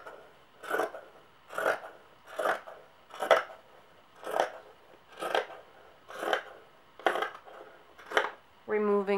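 Scissors cut through a cotton t-shirt in nine steady, evenly spaced snips, each a close, crisp crunch of fabric, with a short tonal sound at the very end.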